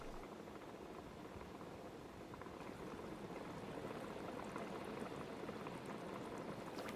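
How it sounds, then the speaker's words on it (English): Hot spring water heated by volcanic rock gushes up from underground in Japan, a steady, dense, faint bubbling and pouring rush that continues without pause. "Water, heated by molten rocks, gushes up from deep underground, forming pools"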